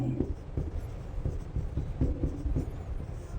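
Writing on a board during a Hindi chemistry lecture on atomic structure for NEET, steady close scratchy strokes with small taps throughout.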